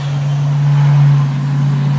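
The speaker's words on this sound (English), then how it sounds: "stupid cars." Cars drive past on a road with a loud, steady low engine drone and a rising then falling rush of passing traffic.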